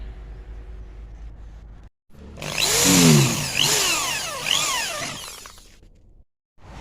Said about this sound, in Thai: พอเราเจาะเสร็จเรียบร้อยนะครับด้วยดอกสว่านจิตมินครึ่งนะครับ